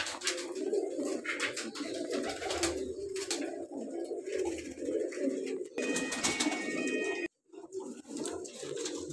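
A pair of golden pigeons coos steadily in low, murmuring calls close by, along with scattered clicks and brief clatter, before a short silent gap near the end.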